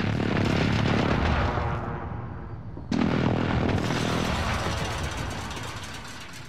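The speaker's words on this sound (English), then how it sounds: "Airstrike! Get down!" Airstrike in the Call of Duty Warzone video game: heavy rumbling blasts roll through, fading briefly before a sharp new explosion hits near the three-second mark and a long booming rumble carries on.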